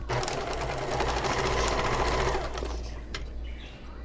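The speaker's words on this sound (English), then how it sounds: "I'm going to sew to that 1 inch mark and make sure to backstitch there too" Close and loud, a sewing machine runs steadily while stitching and backstitching a short seam on an ottoman cover, then eases off and quiets near the end.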